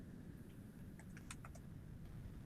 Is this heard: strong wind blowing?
no